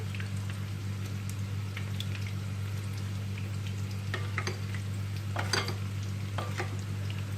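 Steady sizzling of sauce-coated cauliflower frying in a hot pan, with occasional crackles and pops and a constant low hum underneath.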